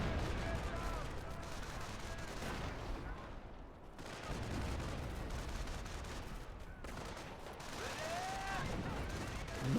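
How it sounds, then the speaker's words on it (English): Grenade blasts and rifle gunfire ring out in a Company of Heroes match, a steady battle din of bursts and booms with no break in the noise. "Another grenade comes in."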